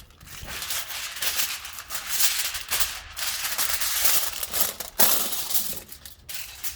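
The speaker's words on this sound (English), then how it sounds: "I'll get a little piece of foil." Aluminum foil crinkles and tears in continuous crisp bursts, sharp rustling spikes as a small sheet is ripped and handled up close, with no talk.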